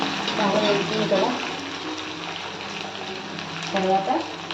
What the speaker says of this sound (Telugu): బాగా వేగుతుంది కదా.